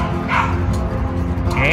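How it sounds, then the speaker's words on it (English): A West Highland White Terrier puppy gives short high yips and whimpers, close and brief, while someone talks softly over a constant background hum. "Noisy dogs."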